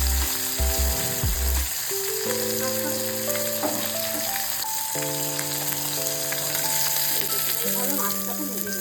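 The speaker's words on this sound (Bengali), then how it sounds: "এই মাছটা একটু যদি ভাজা হতে" Pabda fish frying in a pan gives a steady close sizzle throughout, heard beneath sustained tonal background music.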